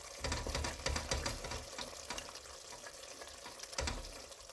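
Food sizzling and being stirred in a pot as pepper paste is sautéed for beef goulash, with soft scraping and clinks from a utensil over a steady frying crackle.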